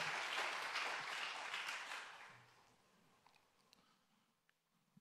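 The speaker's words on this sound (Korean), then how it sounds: "우리 박수로 축복해 주시기 바랍니다" A church congregation claims warmly for about two and a half seconds, a dense wash of hand claps that then fades to a few scattered claps in a quiet room.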